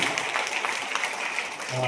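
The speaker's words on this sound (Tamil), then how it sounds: "நம்ம எல்லாரும் சத்தமாக கைத்தட்டலாம் இதுக்காக" An audience claps together at an anniversary function of a foundation, a steady wash of applause throughout with a voice briefly heard near the end.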